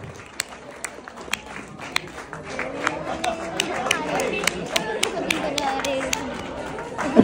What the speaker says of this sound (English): Let's all clap for her.